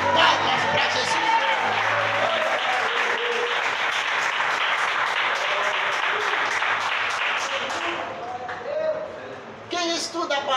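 A church congregation claps together in steady, dense applause that carries on for most of the stretch, with voices calling out over it before the clapping thins and breaks into scattered claps near the end.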